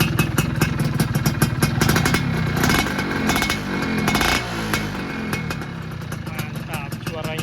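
A 2001 Yamaha F1ZR two-stroke motorcycle is revved with a few short throttle blips near the start that rise and fall over a raspy idle, then it settles back to a steady putter.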